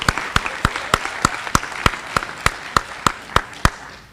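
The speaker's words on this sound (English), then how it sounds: "I want to give them another round of applause" Applause for a school academic team headed to Academic Nationals at an awards assembly, with a steady rhythm of distinct sharp claps over a softer crowd clapping bed, no talk.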